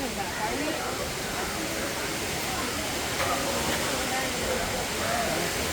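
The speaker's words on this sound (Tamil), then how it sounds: "நம்ம மேலே இருந்து எப்படி அருவி வருதுங்கிறத பார்க்கலாம்" Water from Thirparappu waterfall pours down in a steady, broad rush that holds at an even, fairly loud level throughout, with no clear breaks or separate events.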